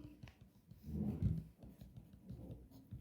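Pen strokes scratch across paper as a Korean chemistry problem is written out by hand, giving soft, close rubbing and tapping sounds that swell briefly in the middle, faint throughout.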